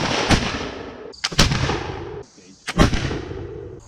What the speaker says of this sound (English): With a musket loaded with paper cartridge.